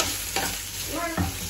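Rice dish frying in a pan while being stirred, a steady close sizzle with a couple of louder scraping stir strokes.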